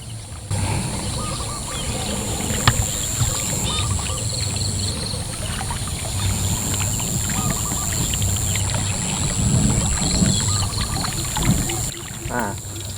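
Steady splashing and rushing water from a Twin Ripper willow-blade fishing lure being drawn through the water runs continuously under a constant high-pitched hum, with no talking.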